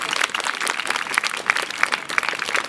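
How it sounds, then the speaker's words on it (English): Outdoor crowd at a Warwick Castle show clapping as a performer takes his seat, a dense close round of applause lasting a few seconds. "Give him a round of applause as he takes his seat."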